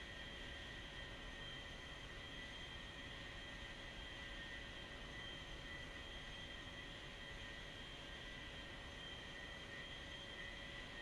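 A video game airplane taxiing, its engine a steady, faint, unbroken drone with a constant high whine and a broad hiss, holding unchanged throughout with no talk over it.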